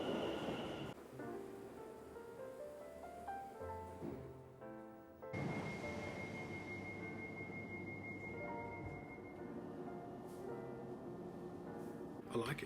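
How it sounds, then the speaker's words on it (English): A London Overground train rumbles in and rolls closer, with a rising tonal whine and rail noise building, while people chat nearby. "here's a Overground train coming now"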